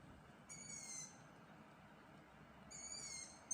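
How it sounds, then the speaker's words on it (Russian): Long-eared owl chicks in pine trees give faint, distant creaking calls, two short bursts separated by a quiet gap over steady outdoor background noise. "а вот в соснах скрипят совяточки. Это ушастые совята"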